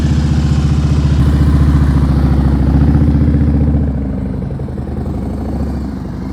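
A motorcycle rides at slow speed through tight full-lock turns during advanced low-speed skills practice in Florida, its engine pulsing steadily and close by, then easing to a softer, lower throb partway through as it rolls on alone.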